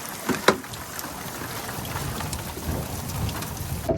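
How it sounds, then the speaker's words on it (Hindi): Steady rain pours down in the Alps in a continuous hiss, with a couple of sharper drips or taps near the start and no one speaking. "बारिश आ रही है अब।"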